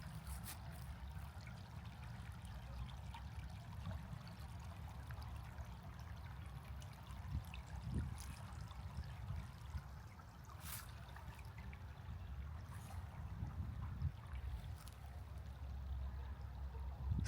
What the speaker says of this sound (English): It's a nice place to come out and just kind of listen to the running water.